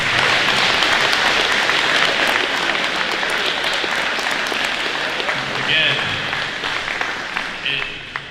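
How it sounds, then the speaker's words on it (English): An audience at a middle school academic awards ceremony gives a sustained round of applause, steady dense clapping that fades slightly toward the end, with some voices underneath. "can we give these guys a big round of applause?"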